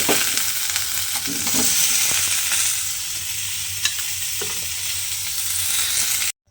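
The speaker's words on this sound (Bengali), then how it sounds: "এই আলু আর ফুলকপিটা প্রথমে আমায় খুব ভালোভাবে একটু লাল করে ভেজে নিতে হবে" Potatoes and cauliflower fry steadily in hot oil in a pan, a dense continuous sizzle with occasional stirring scrapes, close and fairly loud throughout before cutting off abruptly.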